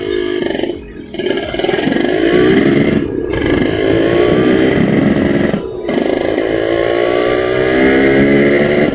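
Yamaha RX-King motorcycle engine revving loud and close, pitch climbing in repeated sweeps as the rider works the clutch, shifts gears and accelerates, with two brief drops between shifts.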